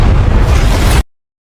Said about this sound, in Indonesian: sebuah ledakan besar yang menewaskan salah satu dari mereka